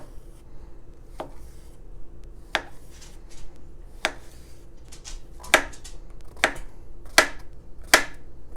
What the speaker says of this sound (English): take a few of these asparagus that I've already washed and a nice big portobello mushroom cap top, and slice these up